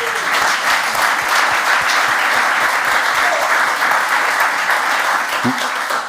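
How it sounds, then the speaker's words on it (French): Loud, dense applause fills a TV show studio for a Mulhouse local program. The sustained clapping of many hands runs throughout over a faint rhythmic low thumping. "C'est un message d'amour et ça s'applaudit aussi,"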